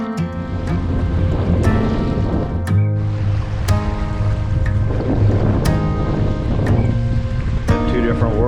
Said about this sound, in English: Got the windy, choppy side, nice smooth side.